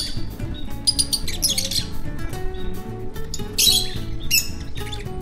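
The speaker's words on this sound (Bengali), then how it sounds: "পুরো রিসর্ট ঘুরতে ঘুরতেই পাখিদের মিষ্টির ডাক আপনি শুনতে পাবেন" Birds call and squawk around a village-style retreat resort near Kolkata, with bright chirps and sharp squawks bursting repeatedly over a dense, busy background, sounding fairly close.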